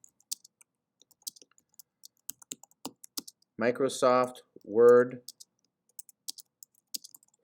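Sharp clicks of typing on a computer keyboard, irregular and close, spread across the whole stretch, briefly paused while someone speaks in the middle.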